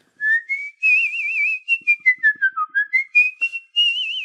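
A person whistles a wandering, melodic tune alone, with sustained notes sliding up and down, then a run of short staccato chirps before a final held note, close and clear.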